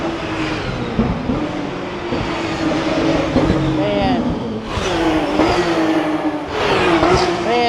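Race cars roar past on the Bang Saen Grand Prix street circuit in Thailand, engines revving loudly and continuously with several rising and falling passes, while someone talks over the noise.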